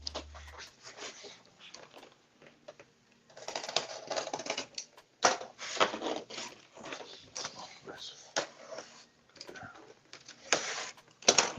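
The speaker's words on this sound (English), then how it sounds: "Let's get this open. Cut the other side." A knife slicing open a large cardboard box, heard as bursts of scratchy, scraping and ticking cuts that start and stop, with a voice speaking now and then.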